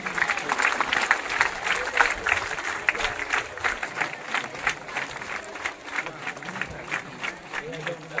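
Audience at a Sirsilla police department government event applauding with dense, steady clapping that carries on for the whole stretch, mixed with crowd murmur and voices.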